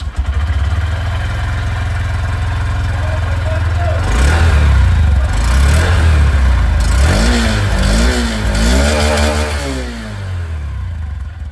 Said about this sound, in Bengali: চলুন তবে এর যে এক্সস্ট সাউন্ড সেটাও আমি আপনাদেরকে এখানে শুনিয়ে দিই।